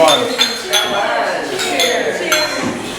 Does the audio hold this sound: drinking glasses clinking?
yes